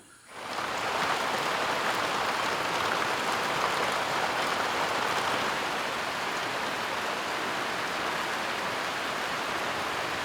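Heavy rain pours steadily in the dense Congo rainforest, a constant broadband hiss that starts abruptly and continues without a break.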